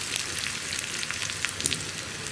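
Onions and curry leaves fry in a pan for a Kerala pazham carrot moru curry, giving a steady, dense sizzle with scattered crackles and pops close by, with no talking.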